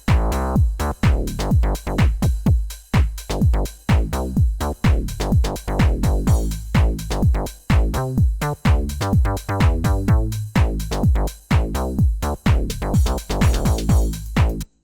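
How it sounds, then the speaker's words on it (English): An old-school Alpha Juno bass synth plays a busy, pulsing house bassline of short, punchy repeated notes, loud and up close, with no voices. "super old school Alpha Juno sounds like this."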